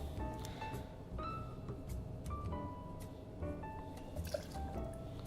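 Coffee liqueur pours into a glass or jigger for an 80s cocktail: soft glugging trickles and drips in short bursts, near and fairly quiet, with no speech.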